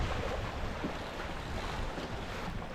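Steady, roaring wind buffets the microphone alongside rushing water and waves, a constant loud wash on open water while sailing a proa with a lug sail, no voices.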